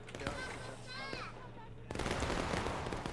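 Rifle gunfire from Union soldiers sitting and standing in the Bloody Lane video game, a dense burst of shots after a quieter stretch, with background talk throughout.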